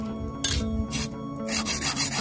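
Grinding wheel on a bench grinder sharpening and reshaping a broken sickle blade, a steady rasping scrape pressed on in repeated bursts with brief lighter gaps between strokes, close and fairly loud over a constant motor whine.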